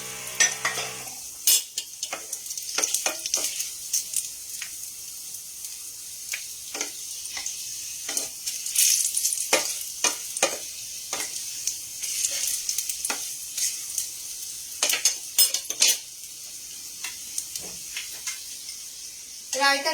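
Besan paneer chilla fries in oil in a pan, a soft steady sizzle running throughout with intermittent sharp scraping and clinking strokes of a spatula stirring and turning it, close and moderately loud, no talking.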